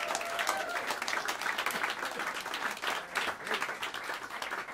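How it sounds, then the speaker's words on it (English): An audience at Smalls Jazz Club in New York City gives warm applause for the band, a dense, even patter of many hands clapping at moderate distance. "please uh, help me welcome them with some warm applause as I mention their names"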